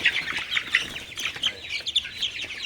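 Chickens on a poultry farm cluck and chirp steadily and fairly close, a dense overlapping flock chatter with no voices.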